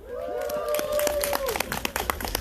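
An audience bursts into warm applause at an outdoor candlelight rally, a crowd of hands clapping near and loud for a couple of seconds, with a voice calling out over it at first and the clapping thinning to scattered claps.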